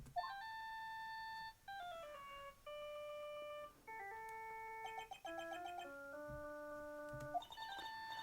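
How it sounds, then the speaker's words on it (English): Melodic electronic phone ringtone from the video game Phoenix Wright: Ace Attorney, a bright chiming tune of stepped synth notes repeating for several seconds, clear and prominent with no talk. "All of a sudden, the phone began to ring."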